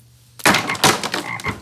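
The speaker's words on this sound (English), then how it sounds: "God is gonna send frogs." Frogs croaking in a loud, sudden burst of rapid, overlapping rattling calls after a quiet moment.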